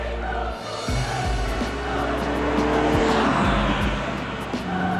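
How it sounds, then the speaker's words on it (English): A red 1984 Ferrari 308 GTS Quattrovalvole driving, its engine a steady loud drone with shifting tone and a few low thumps, heard up close from the road. "Adam has a 1984 308 GTS Quattro-valve red Ferrari and is ready to take us for a drive"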